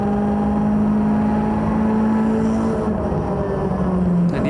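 A loud, close TCR touring race car engine running at the Red Bull Ring with a steady droning hum that holds level and shifts pitch slightly near the end.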